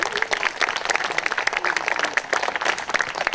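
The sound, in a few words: audience applause at ceremony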